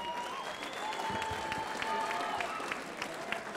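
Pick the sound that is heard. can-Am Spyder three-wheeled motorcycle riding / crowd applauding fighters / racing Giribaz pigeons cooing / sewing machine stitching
crowd applauding fighters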